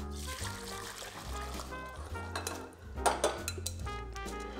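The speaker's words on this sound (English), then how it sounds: "So we're gonna pour this back into the pot." Sauce for sweet and sour chicken is poured back into a pot, heard as a close liquid trickle mixed with clanking of pots and utensils, with a louder knocking burst near the middle.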